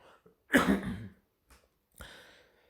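One sharp cough, followed by a couple of quieter breaths or throat sounds, close and otherwise silent.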